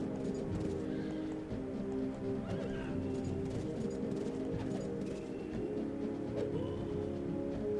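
Horses in a strategy video game whinny and neigh repeatedly over a steady clatter of hooves and a busy background din, with no one speaking.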